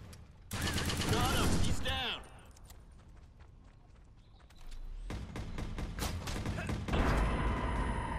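Rapid automatic gunfire in a video game rings out in a loud, dense burst, then drops to quieter action sounds, and a second sustained volley of shooting follows. A voice is heard talking over it.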